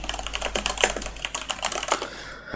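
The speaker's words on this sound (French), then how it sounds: "J'aime bien ton clavier mécanique." Rapid typing on a mechanical keyboard, close and crisp, a dense run of clacking keystrokes with no voices.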